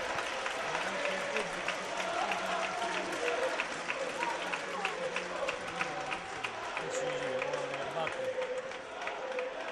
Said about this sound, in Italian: Sale l'incitamento dei tifosi